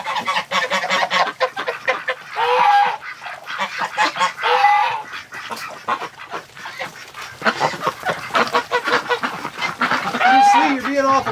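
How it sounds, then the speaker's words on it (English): Wintering ducks calling around a nest, loud and close, a series of rough honking and quacking bursts in irregular clusters across the clip, with a person talking between the calls. "They're crazy ducks."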